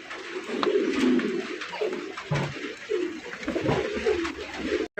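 Rasgolla and other fancy pigeons coo in low, throaty repeated calls at a breeding farm, close by, with several birds overlapping in a steady rhythm.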